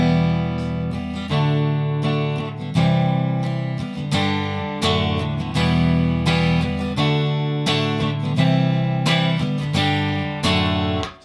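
Guitar plays the intro of a song in a steady, repeating riff of struck chords and notes with a regular rhythm, loud and close, with no voice over it.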